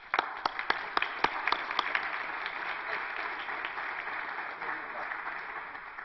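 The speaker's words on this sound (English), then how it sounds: "I want to welcome her to this role and to this lectern with a round of applause." Audience applause welcoming a speaker to the lectern at a healthcare policy talk, a few close, sharp claps at first, then softer, steady clapping from the room at moderate distance.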